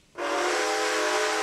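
A steam locomotive whistle sounds in Red Dead Redemption 2, a single loud, sustained harmonic blast with breathy hiss that starts abruptly and holds steady, with no talk over it.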